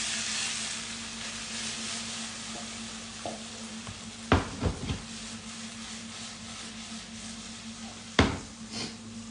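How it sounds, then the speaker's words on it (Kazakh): A pan of softened vegetables fries with a steady low sizzle for a Kazakh chicken and potato pie filling, broken by a few sharp scrapes and clacks of a spatula stirring against the pan. "біраз қуырылды мінекей"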